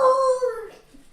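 A dog lets out a single high, wavering whimper that slides down into a short howl, close and fairly loud, fading out within about a second.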